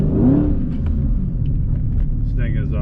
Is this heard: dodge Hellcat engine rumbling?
yes